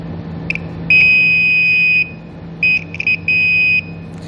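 Electronic circuit tester probing a trailer wiring pin on a 2008 Jeep Wrangler taillight with the taillight function on, giving a loud, sharp high-pitched beep: one short chirp, a long tone, then a few short broken beeps and another long tone, over a low electrical hum.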